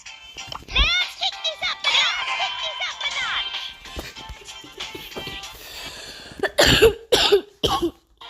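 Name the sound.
coughing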